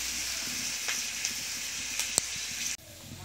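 Chopped onion and chilli frying in a pan until browned, a continuous close sizzle with a few sharp pops and spoon taps, ending in an abrupt cut to quieter frying.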